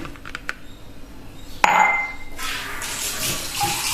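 Water poured into small pots set up for sprouting avocado pits in a home kitchen, a steady bright splashing that starts partway through after a sharp clink, close and alone with no talk.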